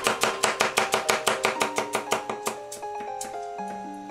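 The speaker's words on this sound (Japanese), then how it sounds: "次は玉ねぎのスライスですね。 なるべく薄く切ってください。" A knife thinly slicing an onion on a cutting board, giving a quick, steady run of crisp chops that slows and fades out near the end, close and clear, with no talking.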